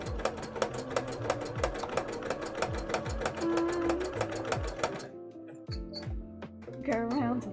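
A sewing machine stitches felt onto background fabric, its needle clattering rapidly and steadily, then stopping briefly and starting again in short bursts, with people talking over it.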